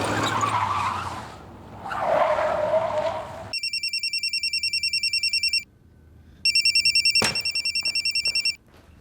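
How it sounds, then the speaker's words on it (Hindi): A telephone rings in two electronic bursts after a brief screech of skidding tires, the ringtone loud and close with a short gap between rings. "फोन उठाओ, हो सकता है किडनैपर्स को कॉल हो"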